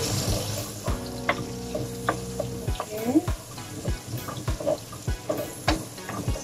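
Ginger and garlic fry in oil left over from cooking salmon, a low sizzle broken by scraping stirs and clinks of a utensil, with a brief steady electronic tone sounding early.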